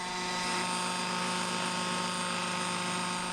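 Several autonomous unmanned helicopters fly nearby, their steady rotor drone and whine holding at a constant, moderate level throughout with no voices.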